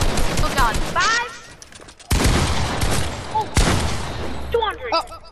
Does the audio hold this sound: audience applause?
no